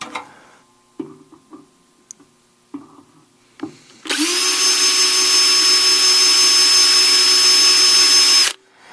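A few sharp clicks and taps, then a power drill whirs loudly and steadily for about four seconds into metal before stopping abruptly, close by.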